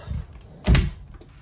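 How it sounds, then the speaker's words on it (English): A door on a 2022 Keystone Raptor 429 toy hauler RV swings shut with a single solid thump, close and fairly loud, preceded by faint rustling. "close that door up."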